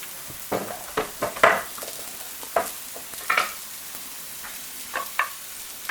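Shallots sizzling gently in hot fat, a soft steady crackle with scattered sharper pops and a few scraping stirs, close and fairly quiet.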